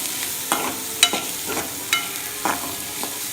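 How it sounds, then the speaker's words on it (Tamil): Drumstick leaves (murungai keerai) sautéing in a pan for a Nagercoil-style thoran, with soft steady frying hiss and repeated stirring scrapes about every half second, close by and without talk. "இது நல்லா கொஞ்சம் வதங்கின உடனே நம்ம முருங்கைக்கீரையை போட்டுறோம்."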